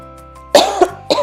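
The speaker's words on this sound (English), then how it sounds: "I have had this cough for like 3 weeks now." Three short, sharp coughs close to the mic, the first strongest, spaced unevenly over about a second.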